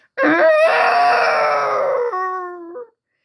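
A human voice imitates a long, loud, wavering howl that rises, holds, and trails off lower before cutting out.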